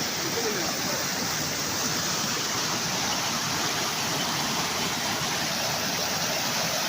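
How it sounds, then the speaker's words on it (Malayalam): A small stream flowing out of a marsh near Coonoor, slightly muddy after rain, making a steady, even rush of running water that fills the whole stretch without pause. "ഇതുകൊണ്ട് ഈ ചതുപ്പിൽ നിന്ന് വെള്ളം ഒഴുകി വരുന്നതാണ്."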